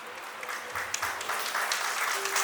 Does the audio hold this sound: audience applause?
yes